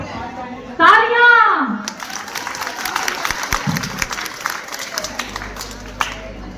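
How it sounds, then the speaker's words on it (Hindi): At a school farewell party, a crowd of students breaks into scattered clapping and cheering after a voice calls out, the applause lighter and mixed with chatter before settling into a softer background. "तालियां।"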